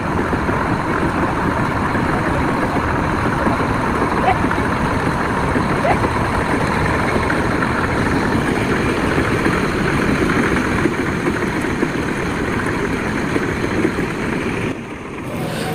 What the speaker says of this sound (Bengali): আপনার পাশ দিয়ে এই ছোট নৌকা বা টলার চলে যাচ্ছে